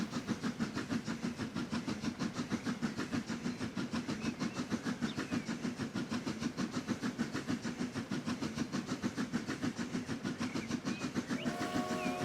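A train runs steadily in a video game, its wheels keeping up an even, continuous clickety-clack with a rumbling engine underneath, at moderate loudness and with no talking.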